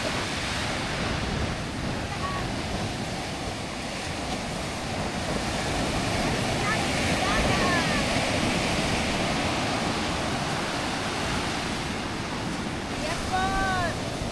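Sea waves washing onto a beach shore, a continuous surging wash with gusty wind noise on the microphone and occasional bird chirps, close and steady.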